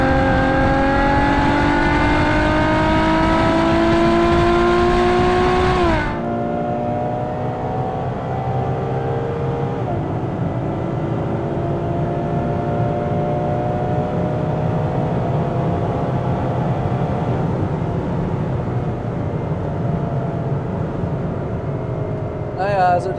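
A 2016 Ferrari GTC4Lusso with its naturally aspirated V12 of nearly 700 hp accelerates hard on the Autobahn, engine note climbing through the revs with a sharp upshift, then a steady cabin drone of engine and road noise continuing.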